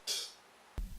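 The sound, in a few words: open hi-hat sample in a beat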